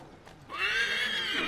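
A horse pulling a carriage in Assassin's Creed III Remastered gives a loud, drawn-out whinny after a brief quiet start, close by, with faint hoof sounds beneath.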